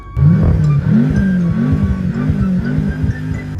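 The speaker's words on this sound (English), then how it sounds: "Let's pop her in neutral and get some revs real quick for the video." A BMW F10 M5 engine revs loudly in neutral, its pitch climbing and dipping in repeated surges over a steady low rumble.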